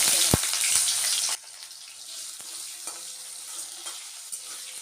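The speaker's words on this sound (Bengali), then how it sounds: "জিরে তেজপাতা শুকনো লঙ্কা ফোড়ন দিয়ে দিলাম তেলের মধ্যে" Cumin, bay leaf and dried chilli hit hot oil with a loud burst of sizzling and a sharp clatter, then settle to a quieter crackle with light stirring taps.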